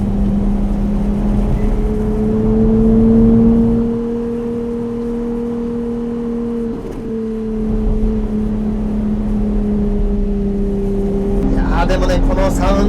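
A Ferrari 296 GTS spider's engine accelerates in a steady, loud droning hum inside the open cockpit, pitch holding and dipping briefly, with someone talking over it throughout.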